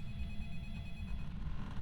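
A telephone bell rings steadily and continuously at moderate level, with a low rumbling background underneath and no voices.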